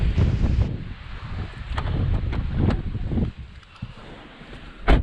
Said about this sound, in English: Oh man. That wind.